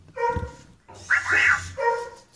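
Dogs in a video game bark and whine in short, close, tonal bursts, with a few separate yelps spread over a couple of seconds.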